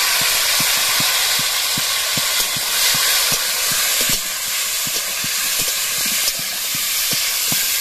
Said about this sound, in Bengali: তো এই আমগুলো আমি এবার এই তেলের মধ্যে দিয়ে দিলাম